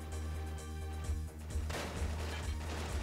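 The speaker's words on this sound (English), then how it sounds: "That's some inaccurate gunfire." Gunfire in Final Fantasy VIII Remastered, a few sharp, loud shots at irregular intervals over a constant low droning background.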